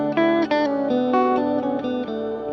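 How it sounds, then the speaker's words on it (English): Electric guitar played through a looper whose recording is fed back into a reverb pedal on an ambient pedalboard, giving sustained, washy chords with each new strum swelling over a long reverberant tail, continuous and fairly loud. "now this recording is going through the reverb again. Plus my guitar"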